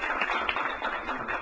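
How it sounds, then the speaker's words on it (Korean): Audience applause at a forum on North Korea, a steady wash of clapping that fills the whole moment without a break. "박수 한번 환영해 주십시오."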